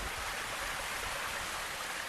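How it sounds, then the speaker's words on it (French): Water from a waterfall cascading down into a pool in a ravine, a steady broadband rush that holds constant and close throughout, with no voices. "c'est le bruit de l'eau qui tombe."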